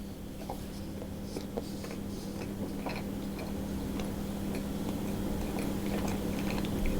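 A banana oat drop scone is bitten and chewed, giving soft, irregular clicks and munching close to the mic over a steady low hum, with no talk.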